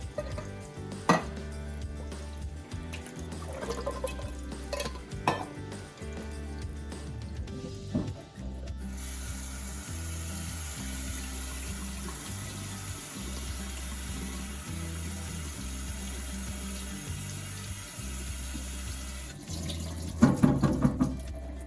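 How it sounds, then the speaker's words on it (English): Black beans are rinsed and drained in a colander set over a kitchen sink, with running tap water pouring steadily and a low hum underneath, ending in a brief clatter. "We're going to put it over the sink so it gives us a nice work surface in order to drain and rinse our black beans."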